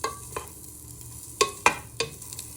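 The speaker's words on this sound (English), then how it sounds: "we're just frying our chorizo for a minute or two to" Chorizo frying in a pan while being stirred, with a few sharp scraping clicks from the stirring over a low sizzle, close and fairly quiet.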